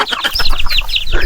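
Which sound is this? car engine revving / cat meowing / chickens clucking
chickens clucking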